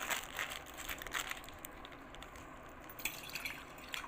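Iced tea is poured into a glass, a faint close trickle with small drips and what sounds like ice clinking, and no one speaking.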